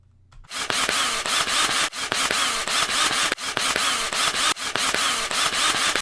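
Phillips screws being driven to sandwich the two halves of a Raspberry Pi case together, heard as loud, steady rasping bursts that repeat in quick rhythmic strokes with brief pauses between each run, close up and without talk.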